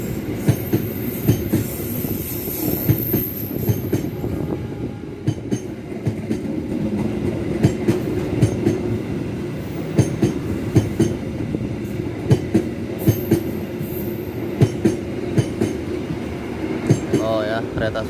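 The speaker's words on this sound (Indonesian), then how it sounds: "Oh ya, kereta Sumatera teman-teman," A Sumatran train passing beneath a railway bridge at a level crossing in Cangkring village, with a steady rumbling roll and rhythmic wheel clatter continuing close and loud throughout, occasional squeals rising near the end.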